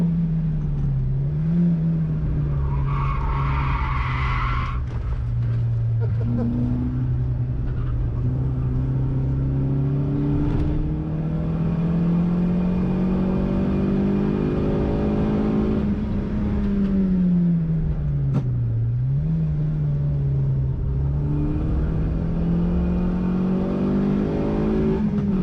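A Toyota Vitz laps the Pukekohe race track, its engine droning steadily and close, pitch rising through the gears and dipping sharply on shifts and braking before climbing again, with no talk.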